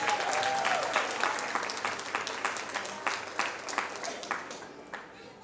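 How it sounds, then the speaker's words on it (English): Audience applause after a classical Indian dance performance at a Salangai Poojai recital, a dense steady wash of clapping that thins toward the end into scattered individual claps before fading out. "Another round of applause, please."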